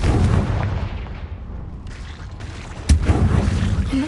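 A Confringo explosive spell in Hogwarts Legacy sets off a rumbling blast that dies down, then a sharp crack hits loud and close, followed by a lingering booming rumble.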